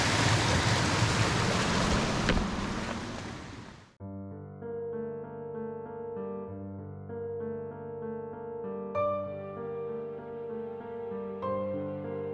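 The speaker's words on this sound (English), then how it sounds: "here is our first waterfall" Rushing water from a waterfall on the Alum Hollow trail in Green Mountain Nature Preserve, Huntsville: a loud, steady roar for about four seconds, then cut off abruptly as music takes over.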